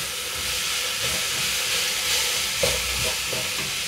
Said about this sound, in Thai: ผัดไปจนสุกเลยนะคะ